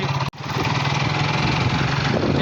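A motorcycle engine runs loud and close on a road ride home from a temple, holding a steady rumbling drone after one brief dropout near the start.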